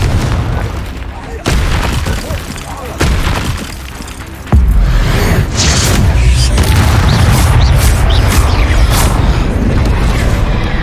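A loud, close blast spell explodes in the Hogwarts Legacy video game, with heavy booming impacts and crackling debris following a sharp onset, as voices shout spell names.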